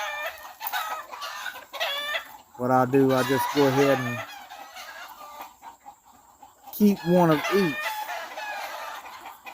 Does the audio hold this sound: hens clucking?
yes